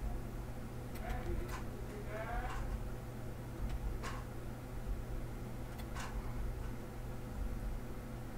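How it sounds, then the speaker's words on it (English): Sheep in a Royale High video game maze bleating several times, short wavering calls at a moderate distance over a steady hiss of background noise. "That's sheep."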